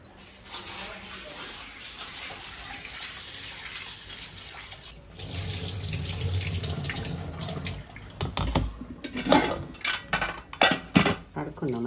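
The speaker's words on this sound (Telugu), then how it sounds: "అర్ధ కిలో శనగపప్పు కడుక్కుంటున్నా" Half a kilo of chana dal is washed under a running kitchen tap: water first flows steadily, then rushes harder, and sharp rattling splashes and clinks of the grains in a vessel take over near the end.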